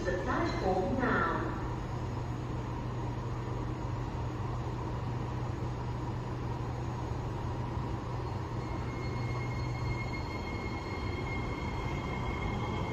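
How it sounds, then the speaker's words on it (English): Singapore MRT train KNS 327/328 pulling into a station platform, a loud steady rumble of rolling wheels with a squeal near the start and a faint high whine later, with a platform announcement audible. "the last train to Kranji via Woodlands is arriving"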